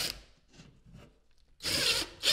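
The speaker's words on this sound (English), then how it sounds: "So you just want to bring your drill up" A handheld drill drives a screw into a wooden backer behind drywall during a repair, with faint scraping and handling sounds followed by a short, loud whirring burst.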